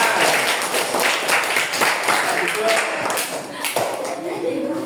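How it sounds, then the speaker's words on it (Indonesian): A classroom audience claps for a student group presenting Asmaul Husna work, a continuous ragged patter of hands throughout with some voices mixed in. "beri tepuk tangan untuk kelompok 4"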